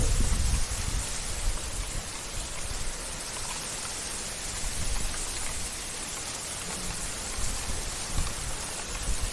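Heavy, steady rain pours down in a dense, continuous hiss with low rumbling underneath, loud and unbroken throughout, in the Chandaka jungle.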